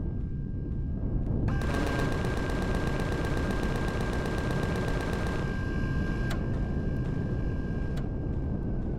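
Turrets fire in a sci-fi survival game at an abandoned archaeological site, a fast metallic burst of evenly spaced shots for about four seconds over a dense rumbling background, then a couple of isolated sharp cracks.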